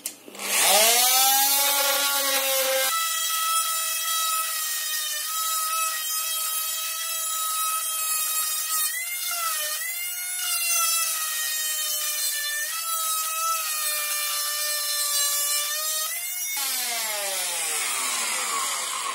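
An oscillating multi-tool fitted with a coarse-toothed blade from a 20-blade set cuts through a thin, wide wooden trim board, a loud, close, continuous buzzing whine that shifts in pitch as the blade bites, spins up at the start and runs down at the end.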